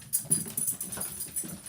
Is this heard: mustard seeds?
no